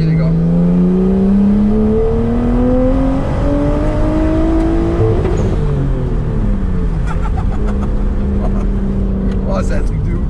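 A Nissan R33 Skyline GTST engine pulls hard while driving on a wet road, its rising drone climbing through gears with shifts between pulls, loud and close inside the car, with people talking over it.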